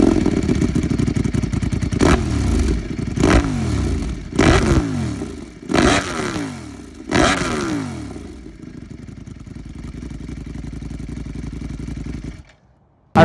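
A 2025 Ducati Panigale V4's exhaust rises and falls through several sharp, loud revs close by, then settles into a steady idle before cutting off.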